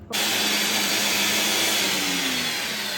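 A mixer grinder whirs steadily and loudly as it grinds a wet green masala paste of garlic, coriander, green chilli and fresh coconut, the motor drone continuous from just after the start to the end with no voices.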